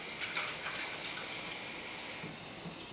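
Water runs in a steady, even stream close by onto hands, a continuous hiss with no pauses or voices.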